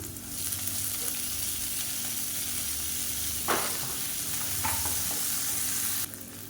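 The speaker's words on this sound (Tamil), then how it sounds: "இப்போ கடலைப்பருப்பு உளுந்து எல்லாமே கொஞ்சம் லைட்டாக பொரிய ஆரம்பிச்சிது" Chana dal, urad dal and onion fry in hot oil for a millet kolukattai, a continuous close sizzle with a couple of stirring scrapes before the crackle drops off abruptly near the end.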